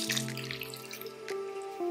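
Half a cup of water splashes steadily into a pan of tomatoes, cinnamon, bay leaf and dried Kashmiri chillies for paneer butter masala, a continuous close pouring sound with a soft, trickling tail.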